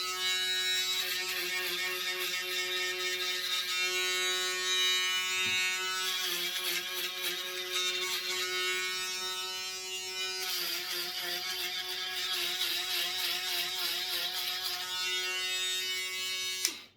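Electric hair clippers buzz steadily and close up while shaving hair during a self haircut, a continuous loud hum with slight changes in tone as the blade moves through hair.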